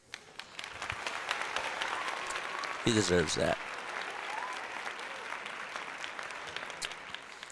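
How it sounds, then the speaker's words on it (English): Steady applause from a crowd of football fans, gathered for a Detroit Lions versus Green Bay Packers game, runs throughout with someone talking over it. "Nice little round of applause."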